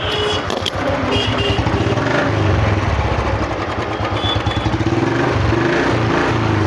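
A modified 2018 BS4 Royal Enfield Bullet motorcycle with an aftermarket silencer idles up close, its loud steady thumping exhaust beat running throughout with no voices.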